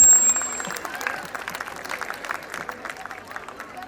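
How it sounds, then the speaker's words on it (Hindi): An audience at a school annual day claps for the students, a burst of applause that starts loud and gradually thins and fades over a few seconds, with some crowd murmur underneath. "एक बहुत जोर की तालियां इन सब बच्चों के लिए।"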